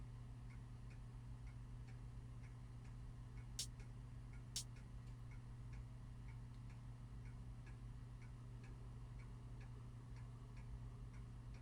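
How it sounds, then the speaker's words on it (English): A soft, steady pendulum clock tick in the video game Spirit Hunter: NG repeats at an even pace over a constant low hum, with two sharper clicks standing out early on. "There's an old pendulum clock on the wall."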